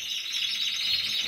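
A bird calls from overhead outdoors, a continuous high, fluttering trill of rapid chirps, fairly loud and close with no talking.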